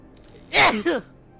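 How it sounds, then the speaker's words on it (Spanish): Short sneeze with a sharp burst and a trailing second part, heard close and alone during a horror game session. "fue un estornudo"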